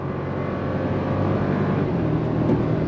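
A 2024 Toyota Tacoma Limited i-FORCE MAX turbo hybrid pickup accelerates, heard from inside as a steady, dense low engine and road drone that holds level and slowly swells, with no one speaking.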